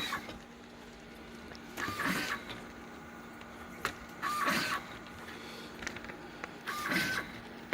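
A LAB510 label printer runs a print job on pouch labels, giving three short mechanical whirring bursts spaced a couple of seconds apart over a steady low electrical hum, fairly quiet and close.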